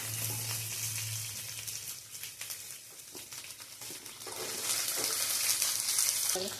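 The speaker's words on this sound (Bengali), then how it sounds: "এবার দিয়ে দেবো পেঁয়াজ আর ক্যাপসিকামগুলো" Onions and capsicum frying in a pan, a steady broadband sizzle that dips midway and then swells louder with stirring, close and continuous with no talking.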